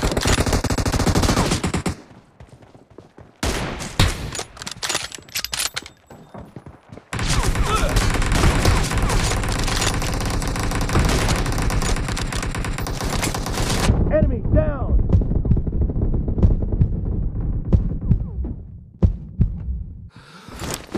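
Gunfire from an M24 sniper rifle in a shooter video game comes as loud bursts of shots and rattling fire, broken by quiet gaps, with game voice lines and effects in between.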